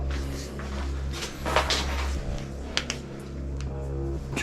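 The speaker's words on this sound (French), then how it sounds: "C'est une porte qui se ferme automatiquement." An automatically closing door in an abandoned casino swings shut, with soft sliding and rattling sounds over a steady low hum, then small clicks and a louder knock right at the end.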